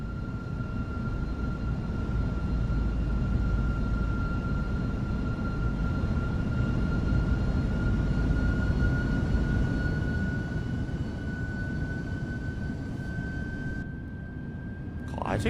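A Delta Airbus A330 in a flight simulator game (Seattle to Minneapolis route) produces a steady loud engine drone with a sustained whine, continuous until it cuts off near the end.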